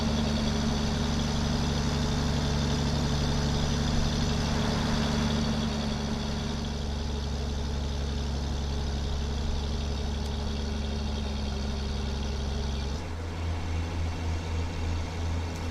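A Mack F700 truck engine from a video game sound mod idles with a loud, steady low rumble. Near the end the idle shifts to a rougher, pulsing throb.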